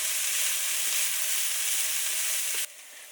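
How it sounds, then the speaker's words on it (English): Asparagus and black bean taco filling sizzles steadily in a hot pan, a dense, even frying hiss with faint stirring knocks, loud and close, dropping sharply quieter near the end as the heat or lid changes. "you just want to cook this for just a few more minutes just to heat the black beans through"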